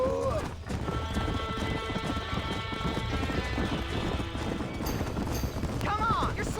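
Clip-clopping horse hooves and a whinny from Red Dead Redemption, set at a burning barn, run continuously under loud shouting voices and crackling commotion, with a sharp neigh rising near the end.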